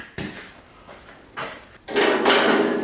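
Latch on the metal door of a handmade chiminea firepit being worked, a few sharp metallic clacks and scrapes followed by a longer rattling slide, close up.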